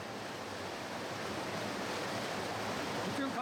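Kaymaz waterfall in the Bereket Mountains near Antalya, a steady broad rush of falling water, continuous and even with no breaks, heard close and alone.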